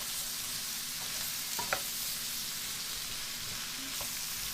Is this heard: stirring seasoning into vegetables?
yes